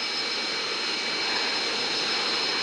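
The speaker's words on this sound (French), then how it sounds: "Voilà, nouveau CRJ-1000, on va voir s'il vole bien cet avion" A CRJ-1000 jet airliner in a flight simulator game gives off a steady, even engine hum and whine, constant and unbroken with no talking.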